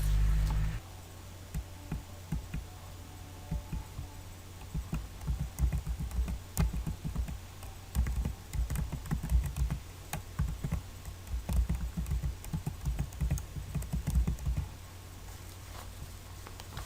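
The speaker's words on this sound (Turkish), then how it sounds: "Paylaşım yapmak istediğimiz kişilerin e-maillerini yazıyoruz." Computer keyboard keys tapped in irregular bursts while email addresses are entered for sharing an EndNote library, close and moderately loud over a steady low hum, with no talking.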